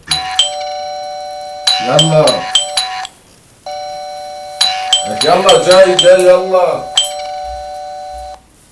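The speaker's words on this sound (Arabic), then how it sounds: "رد الجرس رد الجرس." A loud electronic doorbell rings repeatedly in long sustained tones, overlapped by people shouting and talking in Arabic indoors.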